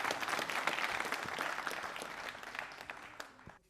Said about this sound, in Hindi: तालियां बजाइए इन दोनों के लिए आप।